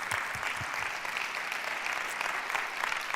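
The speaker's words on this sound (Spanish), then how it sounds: "vamos a daros un aplauso de estar aquí" Steady audience applause fills the whole stretch at a moderate level, a dense wash of clapping with no talk over it.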